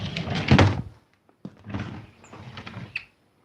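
A cluttered drawer is pulled and pushed, giving a loud rumbling slide, a pause, then a sharp thunk and further scraping rattle, heard alone at close range.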